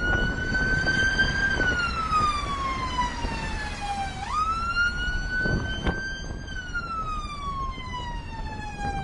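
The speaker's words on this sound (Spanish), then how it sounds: "El conductor parece no inmutarse por el ruido de las sirenas." Ambulance siren wailing through traffic, a loud sweeping tone that rises and falls in long cycles over a steady background of street noise.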